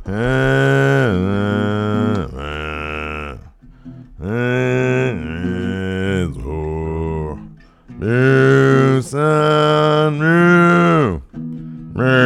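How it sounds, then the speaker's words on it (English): Nirvana's In Bloom is performed entirely with farm animal sounds: loud, sustained cow-like moos rise and fall in pitch to trace the melody in phrases separated by short pauses. "In Bloom with only farm animal sounds?"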